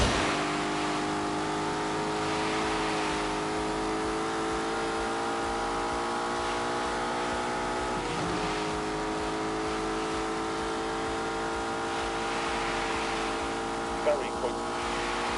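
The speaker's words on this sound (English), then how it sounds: "This is the first Lamborghini to use turbocharging and the first to have an automatic gearbox" A turbocharged Lamborghini with an automatic gearbox in The Grand Tour Game, its engine holding a steady droning rev with one brief dip and recovery midway, while someone narrates over it.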